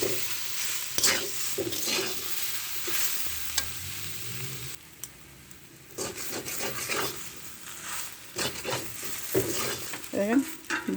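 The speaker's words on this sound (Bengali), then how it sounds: "যে কচুরমুখী আলু সয়াবিন বড়ি একসাথে ভেজে নিলাম।" Taro, potato and soya chunks fry together in a pan, a spatula scraping and stirring in uneven bursts over a soft sizzle, close and fairly quiet, with a short lull in the middle.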